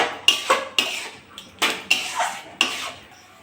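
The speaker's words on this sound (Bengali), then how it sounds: "এটা নেড়ে চেড়ে একটু ডো করে নেব।" A spoon knocks and scrapes against a metal pot as semolina is stirred with milk and a pinch of salt into a dough, giving about six sharp clanks in an uneven rhythm, close by.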